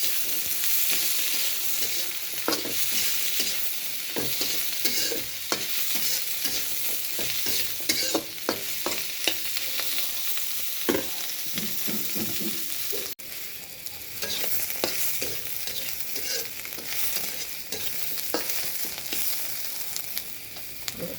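Onions sizzle steadily in hot oil for a meat dish while a spoon scrapes and stirs the pan in frequent, irregular strokes, close and continuous with no talking.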